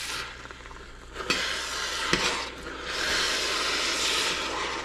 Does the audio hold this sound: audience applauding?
no